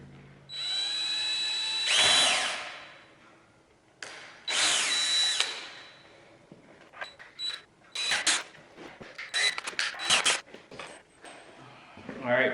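A cordless power drill drives screws into wood for a sprinkler stand, in several separate whirring bursts of rising pitch with short pauses between them.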